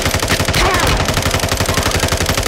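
Rapid, loud automatic gunfire from Call of Duty: Modern Warfare II, a dense rhythmic stream of close shots filling the whole clip with little else audible.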